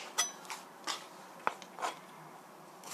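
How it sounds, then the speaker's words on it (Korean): A knife chopping cucumber for pickles in a home kitchen, a handful of faint, sharp, irregular taps on a cutting board with quiet pauses between them. "그 다음은 오이를 썰어 보겠습니다."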